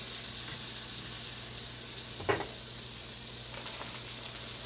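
Ripe banana fritters fry in hot oil with a steady, close sizzle and hiss, broken by a few soft pops and clicks.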